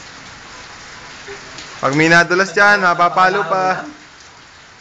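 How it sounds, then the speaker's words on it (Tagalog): Steady rain falls throughout as an even background hiss, with several people talking loudly over it in the middle of the clip. "Sarap po itong maligo sa ulan."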